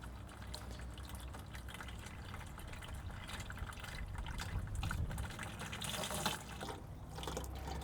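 Liquid slowly pours and trickles as chloroform is decanted off water, a steady soft splashing and running sound, fairly close and continuous, with no voices.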